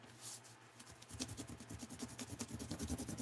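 The blunt end of a pencil rubs back and forth over paper to make a rubbing, giving soft, close, rhythmic scratchy strokes that grow steadier after a second, very quiet, with no talking.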